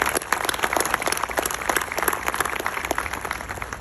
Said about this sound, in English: Please give yourself a hand.